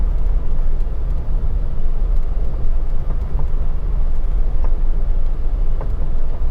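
A loaded vehicle driving out onto frozen Tibbitt Lake in winter, with a steady low engine and road rumble that runs unbroken and fairly loud throughout.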